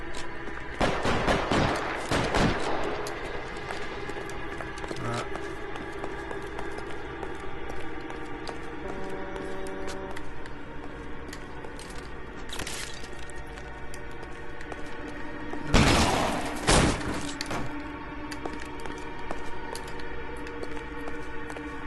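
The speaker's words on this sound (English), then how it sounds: "good old-fashioned gunfight" Scattered gunfire in the video game LA Noire: bursts of shots early on, then a lone crack and a heavier cluster later, set against a steady humming game background.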